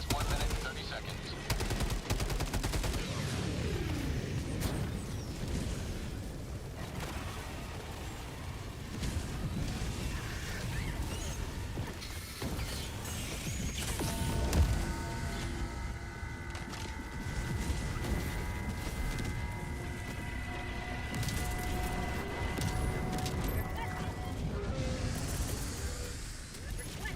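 Napalm strikes in Helldivers set off a long stretch of dense, continuous rumbling explosions and crackling fire. Voices are heard over the din now and then.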